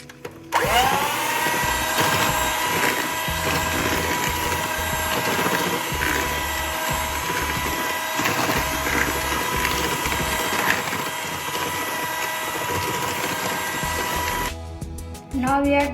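An electric mixer blends cookie dough after egg and vanilla extract are added, a steady loud mechanical whir running continuously for most of the stretch before cutting off near the end.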